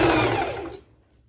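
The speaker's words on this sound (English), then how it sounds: "I'll be just doing a zigzag stitch, as it's easier to show it to you." A home sewing machine runs a zigzag stitch on a mini skirt hem, a steady close mechanical whir for most of a second before stopping, then near silence.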